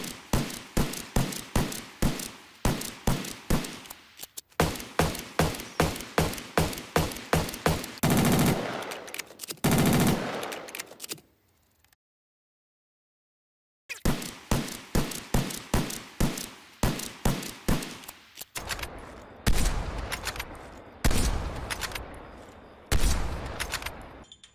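Sniper rifle fire in the video game Call of Duty: Cold War, heard as loud, rapid, evenly spaced shots in long strings, with one brief silent break midway.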